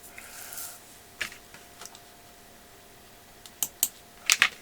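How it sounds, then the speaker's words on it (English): Sparse keystrokes on a computer keyboard, a few isolated taps followed by a quick cluster of louder presses near the end, close and otherwise quiet. "let me find it on the keyboard"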